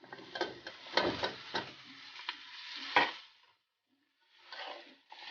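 Mixed vegetables and potatoes sizzle as they fry in a pan with salt, with repeated scraping, stirring strokes up close, a brief lull, then the frying and stirring resume.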